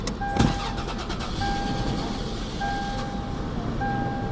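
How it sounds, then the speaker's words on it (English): A car engine cranks and catches with a short burst, then settles into a steady idle, while intermittent warning beeps chime repeatedly over the running engine. "Should I try to turn the car on?"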